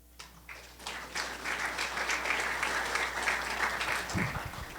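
An audience at a scientific conference on the endothelium breaks into applause for a welcoming speaker, rising quickly and holding steady for several seconds, with a low hum underneath.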